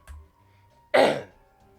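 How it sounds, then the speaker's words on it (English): A single sharp, close throat-clearing cough bursts out after a faint earlier rasp, then trails off into quiet. "As far as this coughing is concerned, it usually doesn't get this bad."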